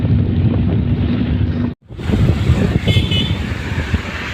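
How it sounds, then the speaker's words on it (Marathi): A state transport (ST) bus sweeps past on a highway, a loud rushing roar under heavy wind buffeting on the microphone, briefly cut by a dropout before the rumble of passing traffic resumes. "हे बघा गाडी गेली, एसटी गेली."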